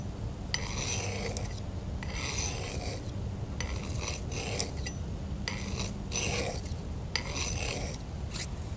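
A hand file sharpens a blade on diagonal strokes, the rasping scrapes coming in an even rhythm of about five close, moderately faint passes.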